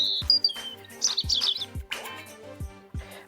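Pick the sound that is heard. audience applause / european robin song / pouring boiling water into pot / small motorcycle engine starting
european robin song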